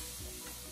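Broccoli, sausage and egg fried rice is stir-fried in a heavy metal pan, a steady close sizzle with a soft scrape of the stirring tool, no talk.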